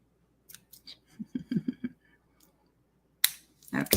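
Scissors snip through paper for stamped cards in a quick run of close, crisp cuts, followed after a short pause by a couple of louder, rustling snips.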